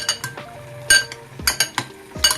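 A spoon stirs yogurt and spice marinade for tikka pulao in a bowl, giving sharp, irregular metallic clinks and scrapes against the bowl in quick succession, close and clear with no voices.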